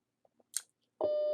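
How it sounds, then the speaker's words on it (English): Faint small clicks and a brief rustle, then a shooting system's timer lets out a loud, steady electronic start beep that holds to the end. "It's going to start a timer."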